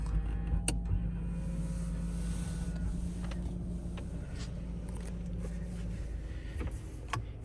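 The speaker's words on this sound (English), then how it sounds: "Side mirror is auto folding as well." An electric motor on a 2024 Toyota Innova Zenix hums steadily as the side mirrors fold automatically, close and fairly quiet, with a few small clicks and no speech.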